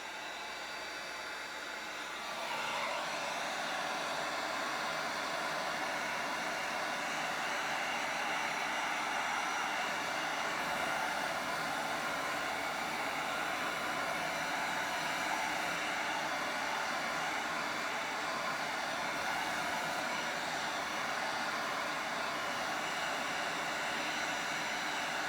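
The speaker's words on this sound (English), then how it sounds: "And I think I'm going to take my heat gun to it." A heat gun blows hot air over an acrylic paint pour on glass, a steady loud rushing hiss that switches on after about two seconds and holds constant, close to the microphone, with no talking.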